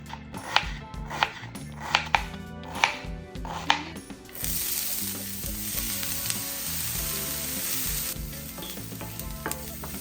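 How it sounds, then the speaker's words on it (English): Knife chopping a small white onion on a board, about six sharp, evenly spaced close chops, then the onion hitting a hot pan and sizzling steadily while it sautes, loud and up close. "we are going to start by chopping up a small white onion and saute it until it's nice and golden"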